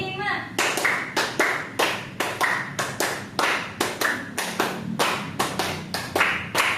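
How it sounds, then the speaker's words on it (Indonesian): A school class claps hands in a lesson, sharp patterned bursts of clapping in a repeating rhythm, close and loud, with voices calling along. "Oke, tepuk tangan semuanya."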